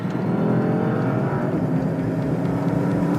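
A Porsche Panamera Turbo Sport Turismo with an 8-speed PDK transmission accelerates hard, its engine note loud and close, rising steadily over a few seconds with no talk.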